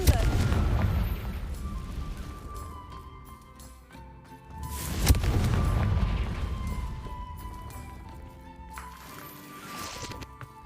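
A Confringo fire spell explodes in Hogwarts Legacy, two deep booming blasts a few seconds apart, each with a rumbling decay under a humming magical game soundscape.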